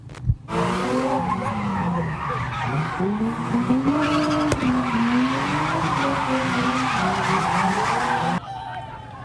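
Tires squeal and skid loudly and continuously as engines rev, the screech rising and falling while cars swerve at a street intersection, then cutting off abruptly.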